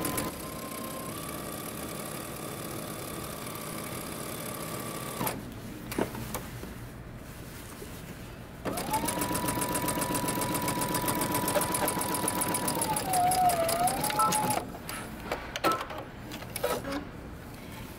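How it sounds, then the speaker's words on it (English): A sewing machine stitches coat pocket bags in steady runs. Its motor hum shifts in pitch between passes, with brief pauses and handling noise between them. "Now go ahead and stitch around the remaining pocket"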